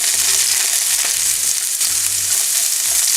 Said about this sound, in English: we're gonna take a handful of bean sprouts and we're gonna saute that a little bit